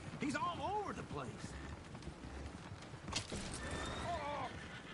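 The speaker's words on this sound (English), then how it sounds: "Damn horses!" Horses in the video game Red Dead Redemption II whinny repeatedly over running hoofbeats, with several loud neighs near the start and again near the end, while someone talks and shouts over the commotion.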